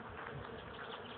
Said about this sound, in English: See if you can hear the bees in the tree here.